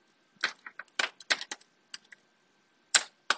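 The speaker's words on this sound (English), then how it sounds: "I will open my browser, and I will type in the Microsoft" Keys on a computer keyboard are tapped in short, irregular bursts of crisp clicks, with a brief pause before a final couple of strokes, close and quiet in an otherwise silent room.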